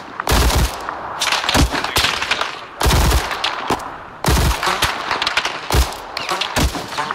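Repeated bursts of gunfire in the military shooter Arma 3, several loud clustered volleys with short gaps, sharp cracks mixed with automatic fire, no talking.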